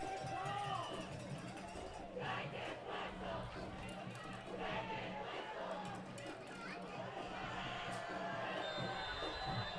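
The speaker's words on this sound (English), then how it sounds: "Green Wave crowd trying to make some noise." A Green Wave home crowd at a 2023 Springfield versus Gallatin high school football game roars and shouts in a steady, distant wash of noise beneath close play-by-play commentary.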